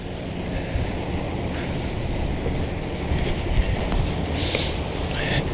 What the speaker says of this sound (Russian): Сейчас довольно ветрено, ветер прохладный